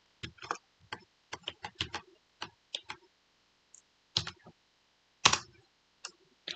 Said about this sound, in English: Sorry if my keyboard is way loud